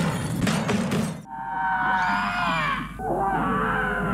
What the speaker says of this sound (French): Des tirs d'armes à feu, des cris d'enfants, c'est la panique.